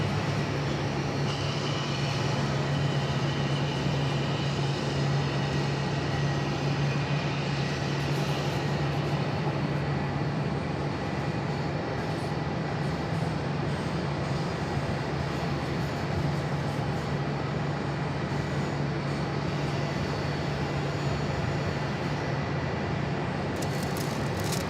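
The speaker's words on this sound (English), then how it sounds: "This 319 is going to be taking off to San Antonio, Texas, flight 3198." An Airbus A319 airliner taxis for takeoff at Phoenix Sky Harbor airport, heard as a continuous low jet engine hum and broadband roar holding steady throughout, moderately distant with no voices over it.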